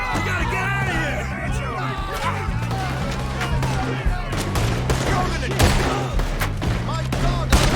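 Gunfire in Red Dead Redemption 2: rapid, loud shots and volleys with sharp cracks and booms, heard under game characters' shouting and talking.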